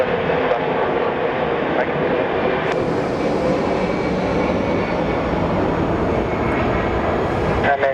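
An airliner taking off at Phoenix Sky Harbor makes a loud, continuous jet roar that holds steady throughout, with a radio voice talking over it.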